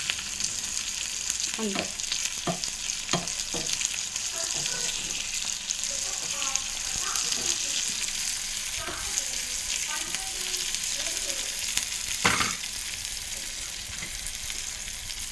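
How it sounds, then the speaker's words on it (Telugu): Ivy gourd (dondakay) pieces frying in a pan, a steady loud sizzle with scattered stirring clatters throughout; a voice speaks briefly over it. "ఈ ఎర్రగా వేగేదాకా మనం వేపుకోవాలి"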